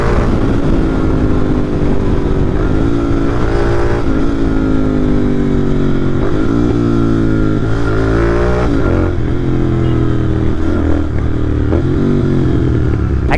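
A motorcycle engine runs loud and close after the bike has been washed, a steady throbbing idle with a few rises and falls in revs throughout.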